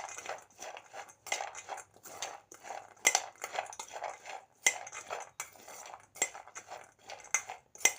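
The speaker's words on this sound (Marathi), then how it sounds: "आणि लिंबू पिळून घ्यायचं छान। छान मिक्स करून घ्यायची आहे।" A spoon mixes boiled chickpea chaat with lemon juice in a bowl, producing rhythmic clinks and scrapes against the bowl in quick repeated strokes, close and clear with no talking.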